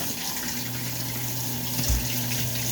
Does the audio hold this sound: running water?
yes